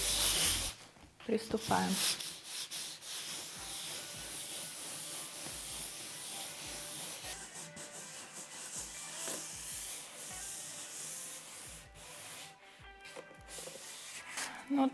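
Fine-grit sandpaper rubbed across the surface of an old suitcase, a soft close scratching hiss in repeated strokes with brief pauses, with a voice speaking briefly at the start.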